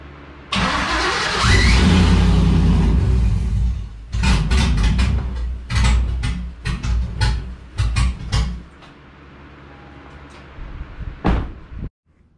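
An LS engine in a Chevrolet Colorado build cranks and fires up, roaring loudly at close range for a few seconds. Sharp bursts and revs follow, then it settles to a quieter idle before cutting off.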